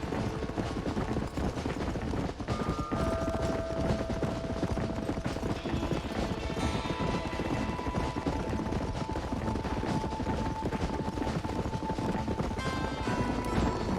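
Hoofbeats of a galloping horse in the Western game Red Dead Redemption pound along in a fast, continuous rhythm amid busy background game sound, with no speech over them.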